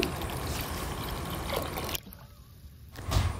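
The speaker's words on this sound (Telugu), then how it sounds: "నేను వాటర్ను యాడ్ చేస్తున్నాను" Water is poured into homemade liquid plant fertilizer, a steady close splashing stream that runs for about two seconds, cuts off briefly, then resumes.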